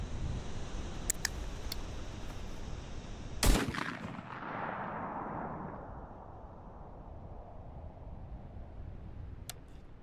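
A double-barrel shotgun fires one loud, close blast at birds flying against a bright evening sky. A long echo rolls away after it, with steady wind noise and a few faint sharp clicks elsewhere.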